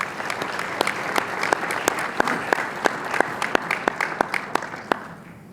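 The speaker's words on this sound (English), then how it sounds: "please join me in giving them a round of applause" Audience applause at an Iowa PGA awards luncheon, a steady wash of many hands clapping with sharp individual claps standing out, sustained throughout and easing slightly toward the end.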